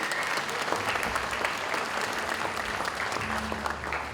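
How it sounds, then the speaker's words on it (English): An audience applauds steadily at a middle school winter concert, dense clapping filling the space at an even, loud level throughout. "Round of applause for them, please."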